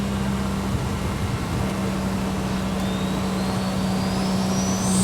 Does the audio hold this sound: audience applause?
no